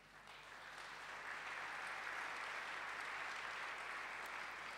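A church congregation bursts into sustained applause to acclaim the Lord, a dense, even wash of clapping that builds in the first second and then holds steady, fairly faint and without voices.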